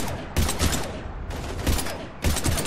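Rapid sustained gunfire in Mass Effect 3 on PC, heavy overlapping bursts hammering out at 0.4, 1.7 and 2.3 seconds, with continuous crackling shots and rumble filling the gaps between them.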